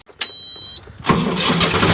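A modified Ford 3600 tractor engine starts: a short electronic beep, then a brief crank, and the engine catches and keeps running with a steady, close mechanical rumble.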